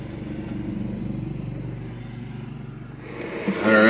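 A four-wheel 6x6 off-road vehicle rumbles past a truck camp during a snowstorm, its engine throbbing evenly and drawing close, then swelling louder into a brighter roar near the end. No one speaks.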